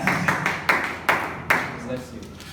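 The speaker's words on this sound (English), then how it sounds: "Can we give a round of applause for Mr." A crowd claps for an arriving speaker at a business and career event: dense, steady applause with a few sharper clap bursts, fairly close and loud, with voices mixed in beneath.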